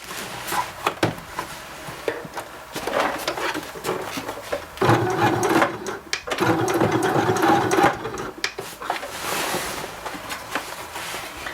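A sewing machine stitches a reusable fabric bag in bursts of rapid mechanical whirring and clatter, stopping and starting between runs, close and fairly quiet, with no voice over it.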